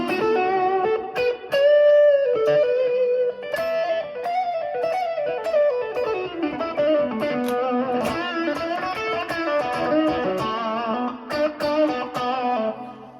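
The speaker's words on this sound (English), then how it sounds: "Here's with the pedal on. Bridge pickup. P90." An electric guitar played through a distortion pedal on its bridge P90 pickup picks out a sustained, gritty melodic line, alone and fairly loud.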